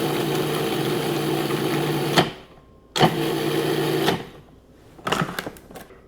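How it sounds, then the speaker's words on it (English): A food processor pulses almonds and freeze-dried cherries with loud, steady whirring bursts, two long runs separated by brief stops, then a shorter patch of rattling at the end. "Now I'm going to pulse these together"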